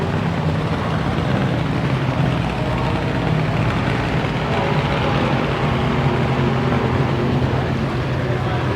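A hot rod's blown Hemi engine at Famoso Dragstrip during the California Hot Rod Reunion and Nitro Revival rumbles loudly and steadily without a break, a dense continuous roar close by.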